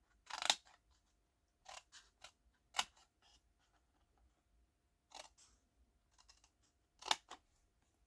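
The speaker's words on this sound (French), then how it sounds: "on va venir couper au niveau des marquages jusqu'au trait comme d'habitude." Scissors snip along the markings on a small piece for a craft basket, making a series of sharp, separate cuts with quiet pauses between them, close and clear in an otherwise silent room.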